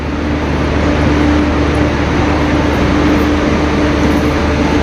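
A loud, steady rumble of a moving train with a constant low drone and rattling, heard from inside.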